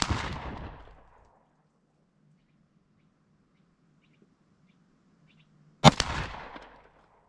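Two sharp, loud handgun shots from a CVLIFE WolfCovert pistol at a shooting range, one at the start and one near the end, each with a trailing echo. A faint low hum fills the quiet gap between them.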